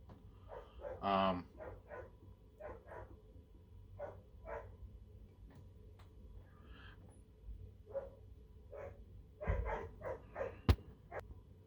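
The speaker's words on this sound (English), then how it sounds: "It was my sister's dog." A dog barks in a series of sharp, separate barks at moderate distance, clustering at the start and again near the end, with quiet background between them.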